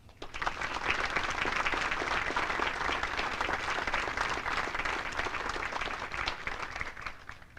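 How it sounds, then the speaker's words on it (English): An audience at a 2nd Regiment Advanced Camp graduation ceremony applauds the awardees, broad sustained clapping from many hands that holds steady for several seconds and then tapers off. "please join me in another round of applause for our awardees"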